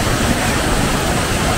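Water rushes steadily from a river flowing below near a waterfall in Palawan, a loud, continuous broadband roar with no talk over it.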